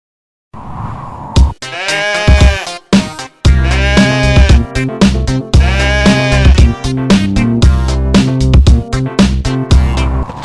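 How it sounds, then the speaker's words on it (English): A goat bleats in a string of loud, wavering calls that follow one another with only brief gaps and continue through most of the stretch. "goat"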